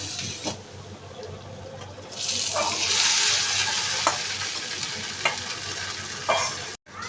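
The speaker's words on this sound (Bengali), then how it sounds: "তো বাগারটা দিয়ে দিচ্ছি এখন" Fried onion tempering poured into a pot of black-bhuna chicken curry sets off a sudden loud hiss that holds steady, broken by a few spoon taps and scrapes nearby.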